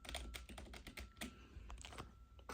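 Fast, irregular keystrokes on a computer keyboard plugged into an Android 14 setup through a Scorpion 2 and Hunter Pro adapter, clicking close and crisp with no talking.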